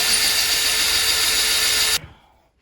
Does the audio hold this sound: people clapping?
no